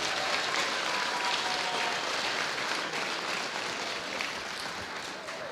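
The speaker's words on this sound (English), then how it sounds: "Round of applause for GameDay Media." Sustained crowd applause in a gym on championship night of a Class B high school volleyball district tournament, broad and distant-sounding, holding at an even level and easing slightly toward the end.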